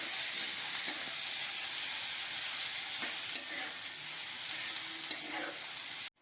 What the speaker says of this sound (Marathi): आता आपण त्याच्यामध्ये कापलेला टोमॅटो टाकूया टोमॅटो हे आपण चांगला भाजून घेऊया